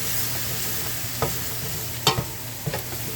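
Mushrooms frying in butter in a pan for seafood fettuccine, a steady close sizzle with a few sharp spoon scrapes and clicks, no one talking.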